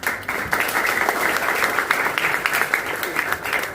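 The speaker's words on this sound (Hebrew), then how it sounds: "מגיע להם הרבה מחיאות כפיים" Audience applause at a gathering in Israel, a dense steady clapping from a crowd filling the room, fairly loud and continuous, with a voice faintly over it.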